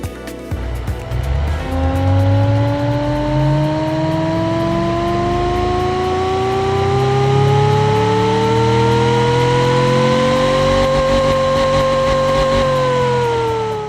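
An old supercharged engine model in a racing game under development revs up steadily, its whining tone climbing in pitch over several seconds before levelling off, loud and alone.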